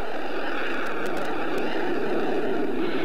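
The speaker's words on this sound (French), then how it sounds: "C'est un avion en fait relativement léger avec un réacteur très puissant en fait." At an airshow in Sion, a light jet aircraft with a very powerful engine roars past. It makes a steady, broad, fairly distant rushing drone that fills the whole stretch.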